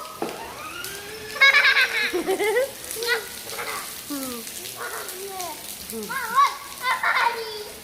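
Heavy rain pours as a steady broadband hiss throughout, with children shouting, laughing and talking excitedly over it.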